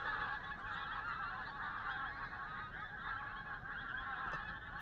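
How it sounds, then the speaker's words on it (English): A huge flock of geese takes off along the Cumbria coast, filling the air with dense, continuous honking and wingbeat noise that stays loud and steady throughout, with no talk. "an absolutely massive flock of something just took off. What a noise."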